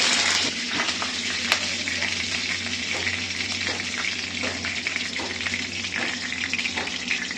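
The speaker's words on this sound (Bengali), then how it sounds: "একটু গরম হোক, দিয়ে দিলাম কারি পাতা।" Curry leaves hit hot oil in a pan for a vegetarian semolina pulao, setting off a loud, close burst of spitting sizzle that settles into a continuous crackling fry with sharp pops.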